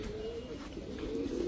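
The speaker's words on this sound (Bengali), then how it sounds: "এটা হচ্ছে লাভ শেপের কবুতর" A pigeon at a pigeon market gives a low, steady coo that swells and repeats across the moment, fairly soft, with faint market background and no talk.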